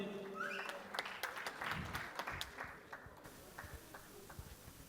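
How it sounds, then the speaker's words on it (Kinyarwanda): Audience applause greets comedian Mwanafunzi as he takes the stage at a live comedy show, a dense burst of many clapping hands that is loudest at the start and thins out over several seconds. "Amashyi menshi kuri Mwanafunzi."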